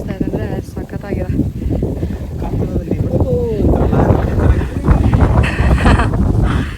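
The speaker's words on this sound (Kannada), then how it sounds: "ಎಂತ ಗಾಳಿ ಬೀಸ್ತಾ ಇದೆ ಅಂದರೆ ಸಖತ್ತಾಗಿದೆ." Strong wind buffets the microphone on a hilltop during a trek up Shivagange hills, a steady low roar under a couple talking close by.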